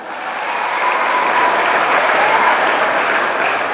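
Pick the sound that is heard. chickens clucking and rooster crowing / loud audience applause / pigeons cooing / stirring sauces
loud audience applause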